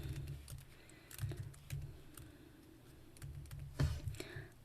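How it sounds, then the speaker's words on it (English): Keys clatter on a computer keyboard in short irregular bursts of typing, soft and close over a low background hum, with pauses between runs of keystrokes. "Let me type a note here."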